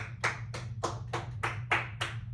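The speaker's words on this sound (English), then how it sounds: "Give yourself a round of applause" A class of students claps after a math lesson on one-step equations: about eight sharp, evenly spaced claps in a steady rhythm over a low, constant hum.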